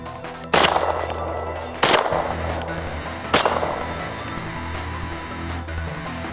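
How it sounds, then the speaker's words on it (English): Three loud, sharp shotgun blasts fired on a pheasant hunt, spaced about a second and a half apart, each followed by a brief outdoor echo, with quieter background sounds between them. "We shot at the same time"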